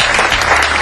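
Audience applause at a magic show, a burst of dense clapping from a crowd, loud and close, filling the whole short moment.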